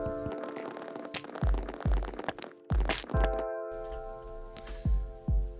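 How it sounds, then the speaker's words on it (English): Wood being chopped in a survival video game: a series of crisp, percussive thunks and cracks at an irregular pace, close and clear over a soft tonal game background. "chop off this wood"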